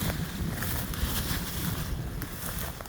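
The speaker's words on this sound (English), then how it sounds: "This wind's been so darn bad here." Strong gusty wind blows outdoors while wild greens are being picked, a continuous loud rumbling buffet with no speech.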